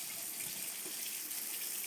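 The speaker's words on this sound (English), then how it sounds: "and then I'll pour the water out." Rinse water for wheatgrass seeds poured out of a jar through a wire mesh lid, a faint, steady splashing trickle running unbroken for a couple of seconds.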